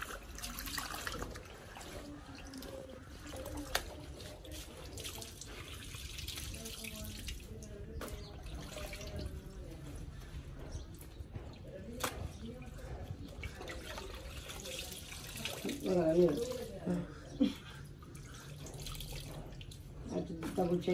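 Laundry is washed by hand in a basin of water with Omo detergent in The Gambia, bringing close sloshing, splashing and dripping with occasional knocks and rubbing sounds.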